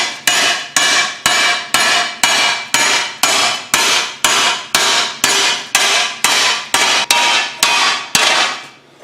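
A heavy hammer pounds sheet metal being shaped into a whale, striking about fifteen times in a steady, even rhythm. Each blow rings bright and loud up close, and no one speaks.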